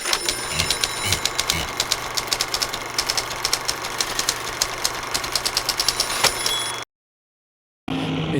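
Argus pulsejet of a WWII V-1 flying bomb, a rapid, harsh buzzing drone with fast regular pulsing, loud and steady, dropping out briefly near the end before resuming.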